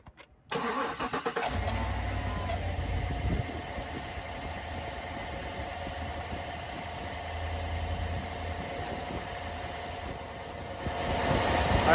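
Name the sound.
truck engine starting and idling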